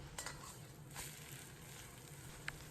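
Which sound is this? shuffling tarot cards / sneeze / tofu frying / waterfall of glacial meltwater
tofu frying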